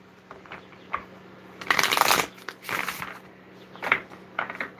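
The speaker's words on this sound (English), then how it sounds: "I just want to keep shuffling." Tarot oracle card deck shuffled by hand: papery riffling bursts in several uneven waves, loudest in the middle, close and alone with a faint steady hum beneath.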